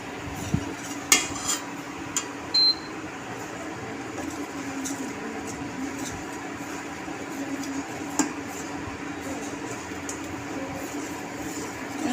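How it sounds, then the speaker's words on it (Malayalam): Payasam boiling in a pot and being stirred, giving a low bubbling wash with scattered soft scrapes and clinks of the spoon against the pot, steady and close throughout. "പായസം തിളക്കുന്നതിൽ ഇങ്ങനെ ഇളക്കിക്കൊണ്ടേയിരിക്കണം"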